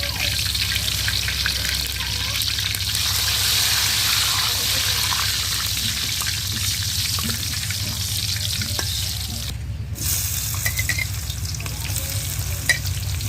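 Dried chilies, whole cumin and two bay leaves fry in oil over an outdoor clay stove, a loud, continuous bubbling sizzle with stirring, holding steady and close for the whole stretch with a brief dip near the middle.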